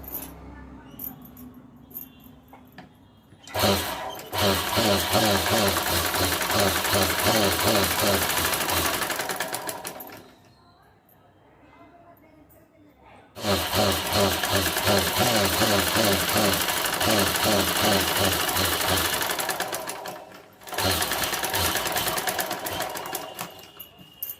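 A sewing machine stitches a blouse sleeve in two long close bursts of rapid, even mechanical chatter separated by a quiet pause, then a shorter third run, with someone talking faintly during the pauses.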